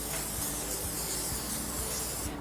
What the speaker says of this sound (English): I'm just going to spray a little bit more oil on there